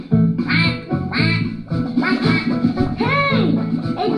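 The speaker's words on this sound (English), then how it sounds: "A duck is waving at us." A cartoon duck quacks loudly and repeatedly in a lively rhythm, several nasal quacks in a row close up over a backing of music.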